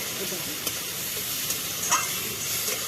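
Spice masala with coriander powder and a little water sizzles steadily in a pan, with a few soft stirring scrapes over the constant hiss and no talk.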